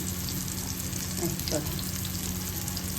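Bitter gourd fries steadily in a pan with garlic powder, a dense continuous sizzle filling the whole stretch, with one or two brief stirring scrapes partway through.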